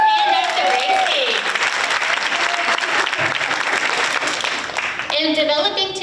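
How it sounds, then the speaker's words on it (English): Sustained audience applause filling a school renaming dedication ceremony at an elementary school, steady clapping from a large crowd with a voice speaking over it near the start and end. "Everybody give them a round of applause"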